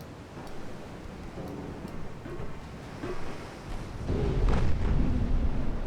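Torpedo strikes landing on a warship in a naval battle game, a low rumbling surge of explosions and water that swells louder toward the end over a steady oceanic wash.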